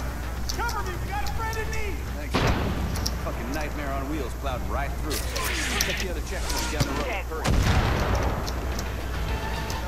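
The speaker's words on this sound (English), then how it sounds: "A mortar here?" Mortar fire booms in Far Cry 5, a few heavy thumps landing near the 2.3 and 7.6 second marks beneath continuous game voices and talk, with a dense battle din filling the background.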